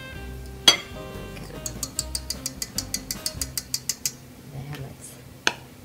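Flour is stirred into paczki dough in a bowl with a series of quick, evenly spaced clinks of a utensil against the bowl. A sharper knock comes before the stirring and another after it, close up and with no talking.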